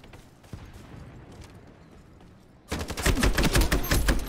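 Gunfire in the first-person shooter Ironsight: sparse single shots at first, then a loud rapid automatic burst rattling through the last seconds.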